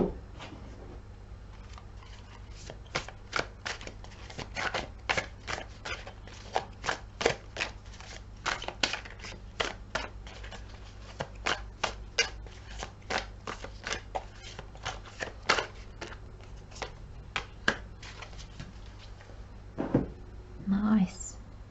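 Tarot cards shuffled in a long, steady run of quick riffling clicks and slaps for about twenty seconds, fairly close and even in level, with a brief louder rustle near the end.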